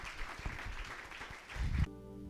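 A church congregation applauds in a dense, fairly quiet rush of clapping for under two seconds before it gives way to a sustained tonal hum.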